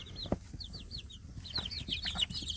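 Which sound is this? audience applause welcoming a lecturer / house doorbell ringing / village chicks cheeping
village chicks cheeping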